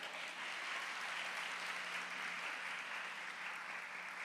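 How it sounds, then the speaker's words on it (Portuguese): Audience applause fills a hall at a women's evening event, a steady, dense wash of many hands clapping, even and sustained throughout without a break. "Pode aplaudir."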